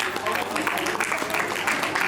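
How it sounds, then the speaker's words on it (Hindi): Steady audience applause at a school class silver jubilee reunion, a dense wash of many hands clapping continuously, fairly close, with voices mixed in. "दोस्तों तालियों की गड़गड़ाहट रुकनी नहीं चाहिए"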